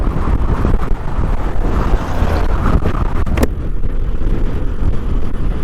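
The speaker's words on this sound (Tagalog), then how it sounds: "Grabing lakas ng hangin." Strong gusts buffet an open microphone on a motorcycle crossing the San Juanico Bridge between Samar and Leyte, giving a loud, continuous low roar with no break.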